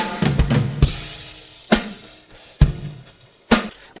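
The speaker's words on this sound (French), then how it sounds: "Sur l'intro, écoutez cette descente de tom." Drum tom fill from a song demo intro: a run of tom hits, then several single heavy strikes with crashing cymbal wash spaced about a second apart, loud and close with no talking.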